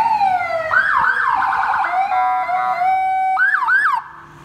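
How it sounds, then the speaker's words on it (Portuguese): An electronic siren on a Fiat Toro pickup truck wails loudly in rising and falling sweeps, pausing briefly before a second short burst of yelping tones, then cutting off. "Também tem uma sirene aqui, ó, que é pra sua proteção"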